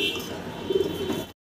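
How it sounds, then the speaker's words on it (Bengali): Caged pigeons of fancy Lahori breeds coo in soft, low, throaty bursts close by, a brief murmuring run of calls over a steady background hum before cutting off abruptly. "আপনারা এই 3 পেয়ার কবুতর পাচ্ছেন"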